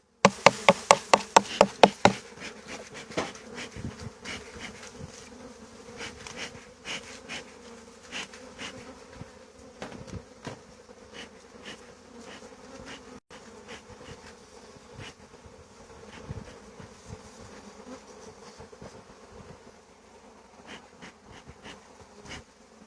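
Honey bees buzz steadily around a hive during spring hive care, a low constant hum near and faint, punctuated by several sharp knocks at the start and scattered clicks.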